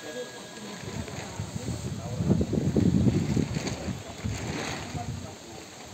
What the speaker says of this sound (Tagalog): Malakas ang hangin. Ang trapal natin ay lumilipad.